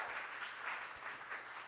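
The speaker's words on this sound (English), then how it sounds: "Like give her a round of applause." Audience at a comedy show breaks into steady, dense applause that holds at an even level for the whole short stretch, with no voices over it.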